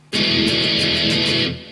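Distorted electric guitar playing a chorus riff with alternate down-up picking, a dense, loud, sustained burst of rapid notes lasting about a second and a half, alone with no voices.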